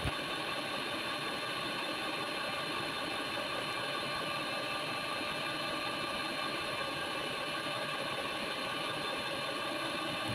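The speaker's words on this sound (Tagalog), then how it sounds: "At atin mo nang paandarin ng ating mixer ng konti para naman medyo umalsa ang" An electric hand mixer whips egg whites with cream of tartar, a steady continuous whirring drone with a faint rattle that holds loud and unbroken throughout.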